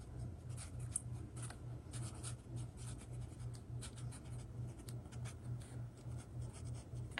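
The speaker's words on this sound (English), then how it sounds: "Let's color this ruffle in." Hand coloring of a ruffle in a drawing, with a steady soft scratching of a drawing tool on paper repeating in short strokes throughout, close and quiet, with no voices.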